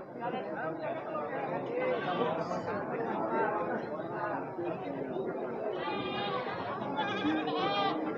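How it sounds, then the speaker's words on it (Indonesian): Goats bleating repeatedly at a busy Indonesian livestock market, several calls rising over steady crowd chatter and nearby talk. "sambil lihat-lihat kambingnya tentunya ya"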